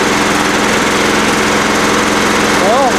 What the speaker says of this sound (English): Well, at least I know the engine runs pretty good.